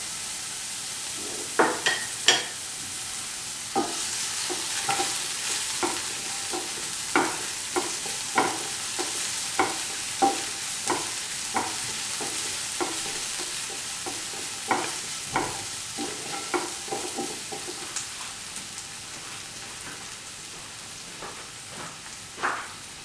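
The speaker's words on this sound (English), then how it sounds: "put in the garlic and ginger and salt" Garlic, ginger and salt fry in a pan with a steady sizzle, while a utensil repeatedly clacks and scrapes against the pan in an irregular stirring rhythm, all close and fairly quiet.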